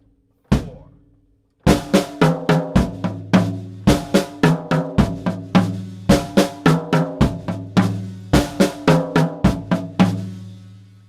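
Drum groove on a kit with bass drum, snare and toms, including a floor tom for the final strokes, a steady run of crisp repeated hits after an opening strike, loud and close with no talking.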